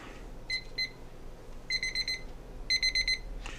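Digital kitchen timer alarm sounding in short bursts of rapid high-pitched beeps, a couple of quick double beeps and then two longer rattling groups, fairly close over faint background hiss.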